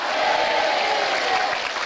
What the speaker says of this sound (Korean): 하나님께 영광 박수 돌립시다.